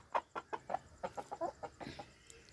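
Hens cluck in short rhythmic bursts while eating at dusk, a close run of about a dozen soft clucks that ends in a slightly longer murmur.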